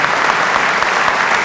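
Dense, steady audience applause fills the room at a talk event, loud and continuous with no break in the clapping.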